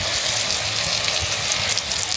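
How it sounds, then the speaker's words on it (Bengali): Pointed gourd (potol) frying in a pan makes a loud, dense, continuous sizzle close up, with no pauses. "আর এট লাস্ট হচ্ছে এখানে পটল ভাজা হচ্ছে এই যে।"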